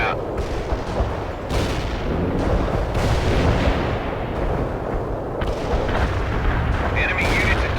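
Artillery fire in World in Conflict: heavy booming salvos pounding close and loud, overlapping with gunfire crackle in a steady, unbroken barrage.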